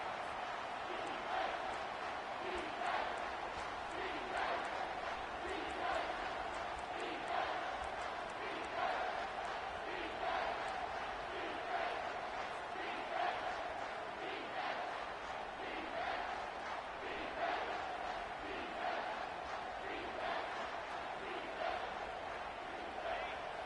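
A home crowd in a football video game roars steadily on a third down, a distant, even wash of cheering that holds for the whole stretch, with an announcer's voice faintly under it.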